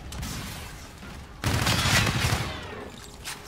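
Gunfire in Call of Duty: Infinite Warfare Domination multiplayer on PS4: a steady low rumble of shots, then a sharper, louder burst of rapid fire that fades over the next second.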